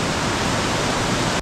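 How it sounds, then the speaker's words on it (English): White water pouring down a waterfall at Devil's Kitchen in Snowdonia, heard as a loud, continuous, even roar with no voices. "water coming down"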